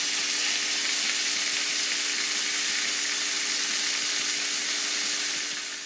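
Bacon frying in a pan as burgers wait to be cooked in its fat: a steady, dense sizzle and crackle holds close and loud throughout, with no voices.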